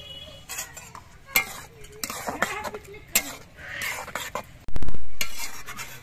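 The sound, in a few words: stirring mustard poppy seed paste into green tomato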